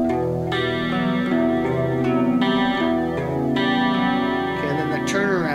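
Distorted electric guitar playing a spooky metal riff, picked across the low strings with open notes ringing, heavy effects giving a chorus-like shimmer; close, loud and steady with clear note attacks.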